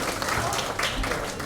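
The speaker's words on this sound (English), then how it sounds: "Let's have a huge round of applause for him." An audience gives a round of applause for the emcee at a celebrity book launch, a dense, even wash of clapping at moderate distance for the whole moment.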